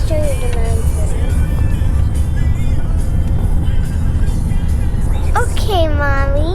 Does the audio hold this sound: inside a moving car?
yes